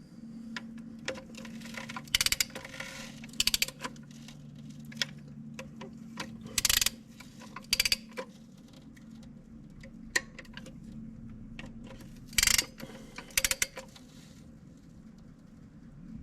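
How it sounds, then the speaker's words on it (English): Torque wrench tightening bolts on a Ford power reverse transmission, with sharp intermittent ratcheting clicks and metallic clatters against a quiet, low workshop hum. "And then these here we're going to torque down to 17 foot-pounds."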